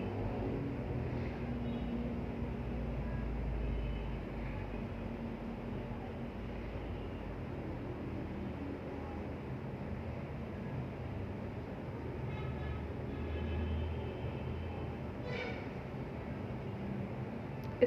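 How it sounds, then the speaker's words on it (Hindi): A sewing machine stitches a baby frock, its motor and needle running as a steady, continuous mechanical whir from start to finish, with no pauses and no voices. "फिर मैं सिलाई लगा रही हूँ।"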